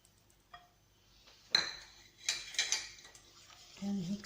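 Pancake batter being mixed in a bowl: a few quick, close clatters of a utensil against the dish, scraping and stirring in short bursts against a quiet background.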